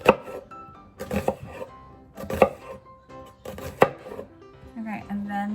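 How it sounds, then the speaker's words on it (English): A knife dices an onion on a cutting board in quick bursts of close, crisp chopping strokes separated by short pauses, with a faint clink of kitchenware near the end. "So I'm going to be dicing the onion."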